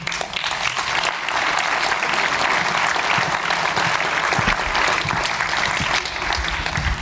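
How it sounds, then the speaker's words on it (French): Theatre audience applauding at a 2017–2018 season presentation evening at the Atrium, a dense, steady wash of clapping that holds at full strength for about seven seconds without letting up. "On peut l'applaudir maintenant."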